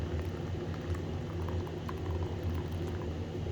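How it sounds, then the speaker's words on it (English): Hot water being poured and mixed into oxalic acid powder for chair restoration, a steady bubbling, fizzing liquid sound that continues evenly and close by without pause. "So I'm going to just mix some hot water into it."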